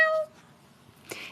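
A house cat meows once near the end, wanting to get in or out, a short faint call after a brief tone and near-silence in an indoor room.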